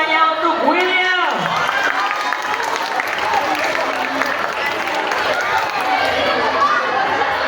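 An audience at a school program applauds and cheers for a speaker, with a steady wash of clapping and crowd noise. A voice rises and falls over it near the start.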